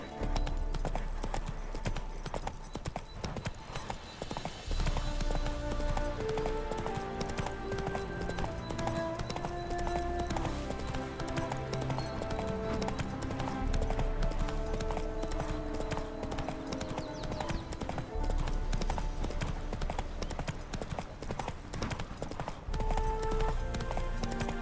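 Horse hooves gallop in a steady, rapid clip-clop rhythm throughout The Witcher 3 gameplay, close and continuous over a soft game music bed.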